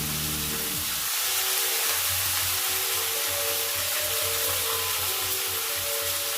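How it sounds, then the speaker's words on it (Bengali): Chopped onions slid a little at a time into hot oil in a wok, hitting with a burst of sizzle that then settles into a steady, loud frying hiss with no voices. "পেঁয়াজ কুচিগুলো একটু একটু করে দেওয়া হচ্ছে কড়াই।"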